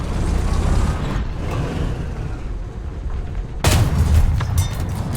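In the War Thunder tank game, a steady low engine rumble runs under distant shots, then a tank is destroyed with a sudden loud, sharp explosion near the end that leaves a heavier rumble behind it.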